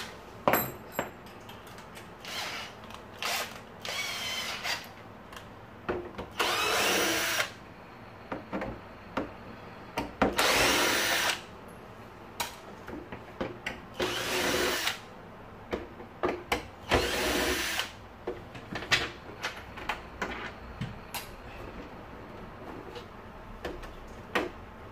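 A power screwdriver taking Torx screws out of a Siemens x6.0 Extreme Power vacuum cleaner, with several longer whirring bursts among clicks, taps and handling of plastic parts, close and moderately loud.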